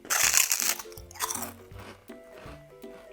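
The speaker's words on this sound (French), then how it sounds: "On va essayer d'entendre le crunch." Homemade shrimp chips bitten close to the mic, a loud crisp crunch at the start followed by a few smaller crackling chews that fade out.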